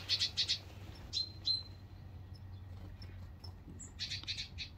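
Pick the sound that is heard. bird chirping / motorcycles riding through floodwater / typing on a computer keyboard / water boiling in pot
bird chirping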